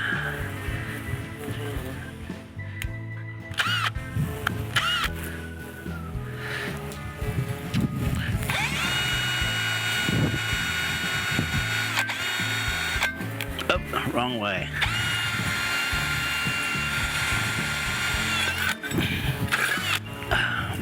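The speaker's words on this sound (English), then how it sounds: "That drills in faster too, this smaller drill bit." Small drill bit boring a hole through a metal ambulance light panel, a steady whine running under a man's intermittent speech and occasional clatter of handling.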